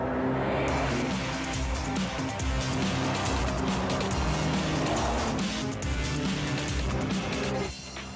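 A Porsche 918 Spyder hybrid sports car with a water-cooled 4.0-liter six-cylinder boxer engine running on a racetrack, a loud sustained engine roar with tire noise throughout, dropping off near the end.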